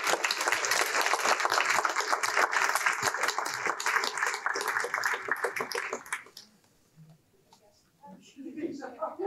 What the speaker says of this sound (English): Please join me in giving me a round of applause for those involved for this project.